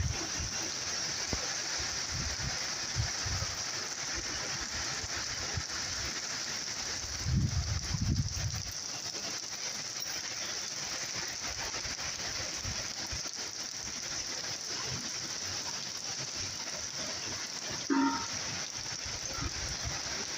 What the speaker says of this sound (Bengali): এই যে শুরু হয়েছে বৃষ্টি